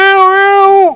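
A voice imitates a female cat calling for a male, a single loud, tonal drawn-out meow that bends downward at the end.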